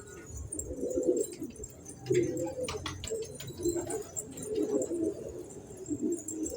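Pigeons coo softly and repeatedly, low rolling calls overlapping one another at close range, with a few faint chirps from other birds in the background.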